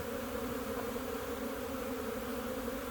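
Dense, steady buzzing of many honeybees swarming around an opened hive during an inspection, a continuous droning hum with no talking.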